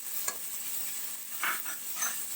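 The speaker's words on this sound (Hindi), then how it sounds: "ये डाल के हम इसको भूनते हैं।" Tomatoes and green chilies fry in a pan with a soft, steady sizzle, broken by a few light scrapes as they are stirred; quiet and close.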